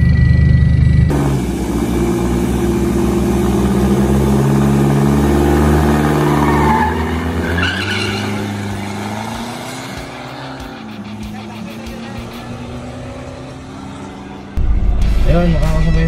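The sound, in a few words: diesel cars at a drag race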